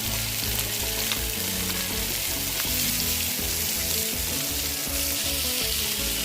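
Fish (sardines) frying in a pan with a steady, loud, dense sizzle and crackle throughout, with no voices over it.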